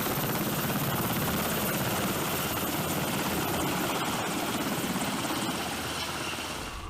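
A Seahawk helicopter thunders close by as it takes off from or lands on a moving ship deck, its rotor and engine roar dense, loud and steady across the whole stretch, easing slightly toward the end.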